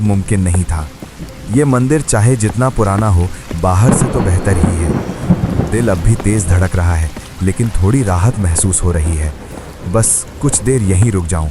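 Steady heavy rain and rolling thunder from a stormy night at an old temple play continuously throughout a Hindi horror story, under a narrator's constant speech.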